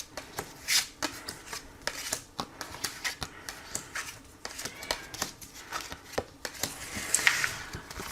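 A deck of tarot cards being shuffled for a card reading: repeated soft riffles and brushing slaps in an uneven rhythm, close and steady, with no talking.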